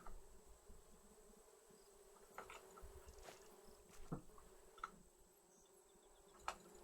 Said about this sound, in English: Why can't I grab these stupid bees?